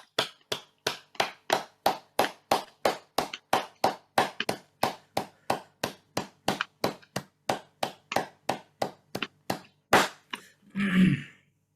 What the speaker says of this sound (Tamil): 30 வினாடிகள் கரகோஷம் செய்வோம்